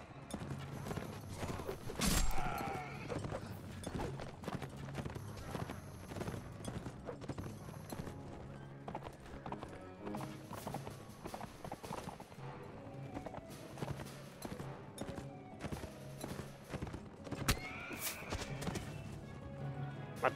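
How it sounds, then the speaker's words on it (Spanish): Horse hooves clip-clopping in the medieval combat video game Mount & Blade Warband, a steady rhythmic gallop with occasional thuds and clashes layered over game sound and ambience. "Mira, caballo medio muerto, pero caballo al fin y al cabo."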